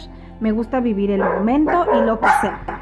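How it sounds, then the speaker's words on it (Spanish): Small female dogs barking indoors, a few sharp yips and barks under someone speaking Spanish close by. "Y disculpen los ladridos de las perritas"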